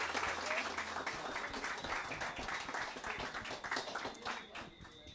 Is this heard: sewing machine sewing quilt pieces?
no